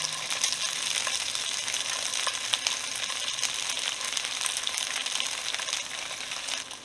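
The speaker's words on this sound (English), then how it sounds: "About to go ahead and cook my beef, steak or whatnot." Beef steak searing in olive oil in a skillet, a steady bright sizzle and spatter close by that runs unbroken with no talking.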